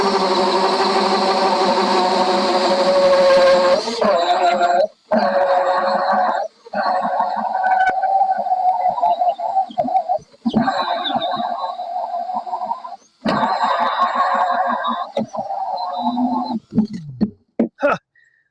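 A power drill on a low torque setting drives into a five-gallon bucket while building a homemade chicken feeder, a loud whirring motor in repeated bursts with short stops between them and a brief trailing whir at the end.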